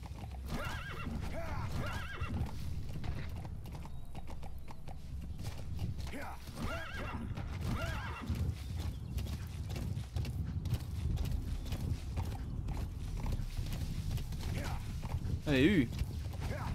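Galloping horse hooves and repeated neighing from Metal Gear Solid V: The Phantom Pain, a sustained clip-clop rhythm with a sharp whinny near the end, over game ambience with some voice underneath.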